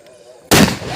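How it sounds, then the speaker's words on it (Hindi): A Diwali firecracker bomb goes off with a sudden sharp, loud blast after a quiet lead-in, and its crackling noise carries on briefly. "ये तो बम"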